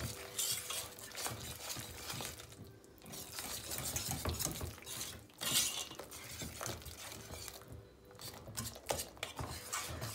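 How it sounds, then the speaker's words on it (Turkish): A utensil stirs pastry cream with vanilla in a pot, making soft repeated scraping and clinking against the pot at close range, with a few sharper taps and brief pauses and no voices. "Bunu bu şekilde hemen karıştırıyorum."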